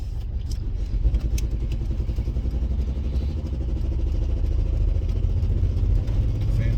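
An engine on a $300 auction-find vehicle runs with a rough, uneven lope, its low rumble pulsing irregularly as if misfiring or puffing through an exhaust leak, loud and close with no talk.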